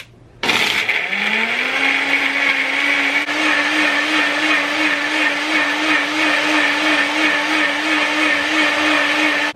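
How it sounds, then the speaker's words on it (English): A NutriBullet blender crushes ice and smoothie ingredients, kicking on abruptly after a quiet half-second into a loud, continuous high whine that holds a steady pitch until it cuts off. "I'm gonna put it on the blender and I'm using the NutriBullet"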